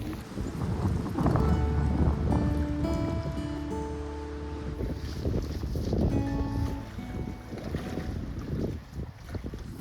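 Wind buffets the microphone in gusty, rumbling bursts on a cold, rainy winter canoe trip, steady and close throughout with faint tonal sounds around.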